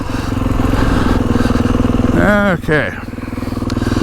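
A Kawasaki KX450X dirt bike engine drones loudly and steadily at close range while accelerating in second gear, with a brief throttle change near the end; a rider speaks briefly over the engine.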